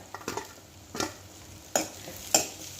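Onion and garlic sauté in a pan with a soft, quiet sizzle, punctuated by several spoon scrapes and stirring clinks spaced about half a second to a second apart.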